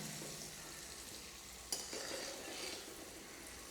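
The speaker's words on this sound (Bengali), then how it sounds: "দেখো এইভাবে ভাজতে হবে।" Split pea fritters with sesame and coconut frying in oil, a faint continuous sizzle with a single sharp tap partway through, heard alone without speech.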